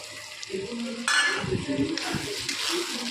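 Mutton sautéed with chopped tomato in a pan: bursts of sizzling alternate with clinks and scrapes of a utensil against the pan, with a brief murmur of voice.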